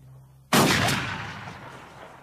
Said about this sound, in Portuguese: Belo tiro, meritíssimo.